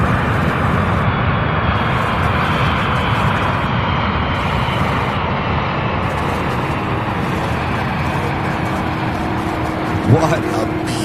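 A heavy cargo aircraft landing at UPS Worldport in Louisville, a loud, steady roar of jet engines filling the whole clip without letting up, with a brief thump near the end.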